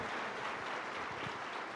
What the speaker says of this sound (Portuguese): já que é para dar aplauso, então aplaude então para o Senhor